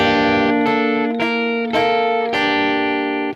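A distorted electric guitar plays a slow minor riff of four sustained notes, each ringing into the next, loud and close with no voices.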